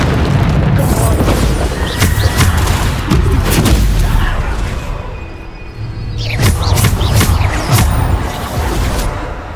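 Booming Bombarda spell explosions in Hogwarts Legacy on PS5, several heavy blasts amid combat with fast clashing effects, loud and close, with a voice calling out spells over them.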